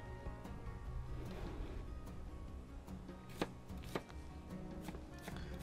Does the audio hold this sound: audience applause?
no